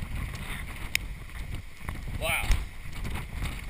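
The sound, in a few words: strong storm wind at a beach dock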